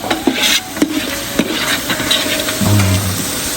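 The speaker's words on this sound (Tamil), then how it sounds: "பாருங்க மக்களே மிக்ஸ் பண்ணுறாங்க" Masala being mixed in a frying pan for a chicken dish, with a loud, steady sizzle and occasional scraping knocks of a utensil against the pan.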